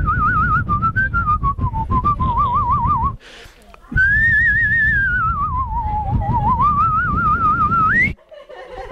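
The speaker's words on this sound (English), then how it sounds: "I can whistle really well." A man whistles a wavering, melodic tune in two long phrases with a short break between them, the sound close and loud, with brief noises in the gap.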